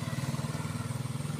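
Motorcycle engines idle near a swimming pool, a faint, steady low chugging with a fast even pulse, distant and continuous over the short stretch.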